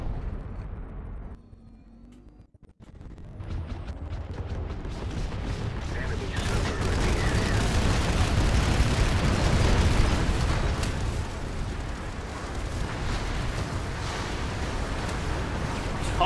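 Dense barrage of artillery and flak explosions in the video game Planetside 2, a rumbling roar that swells into continuous booming and crackling bursts, loud and sustained after a brief quiet dip.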